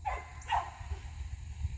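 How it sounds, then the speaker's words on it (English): A dog on a farm gives a couple of short barks or yips, moderately distant, over a steady low rumble of background noise. "there's nothing we can do about the dog barking"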